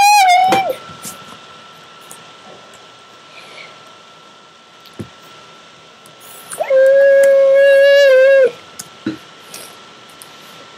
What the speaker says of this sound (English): I have a puppy dog.